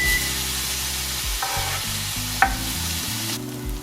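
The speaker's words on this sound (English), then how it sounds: "go ahead and add your onions" Onions fry in melted butter in a cast iron skillet, with a steady close sizzle broken by a few stirring knocks and scrapes.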